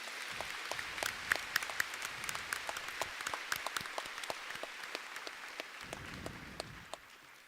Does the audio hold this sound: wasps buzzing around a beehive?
no